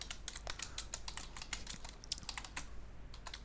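Close, quiet typing on a computer keyboard, with rapid irregular key clicks running steadily throughout and no talking.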